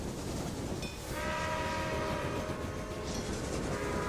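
A trade train in the Railway Empire game rumbles steadily along the track, its horn sounding a short blast early and another near the end over the continuous rolling noise; no talk.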